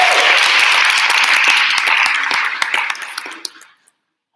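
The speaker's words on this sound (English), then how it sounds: "another round of applause for our panelists." Audience applause for a panel at a media and culture event: loud, dense clapping that holds steady, then fades over a few seconds and drops to near silence before a brief sound at the end.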